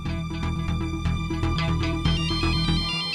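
A phone ringtone plays, a bright synthesized melody with a steady repeating beat, fairly close and continuous throughout.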